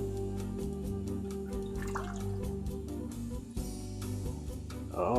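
Hot sauce dripping from a bottle, a few soft wet drips and small liquid plops over a steady background hum, close and fairly quiet.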